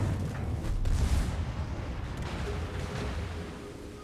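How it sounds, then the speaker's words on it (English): Battleship guns fire in World of Warships, including a Kurfurst engaging the Moskva and Bismarck. A heavy boom rolls into a dense, sustained rumble of distant salvos. "while I'm shooting at the Moskva and the Bismarck here"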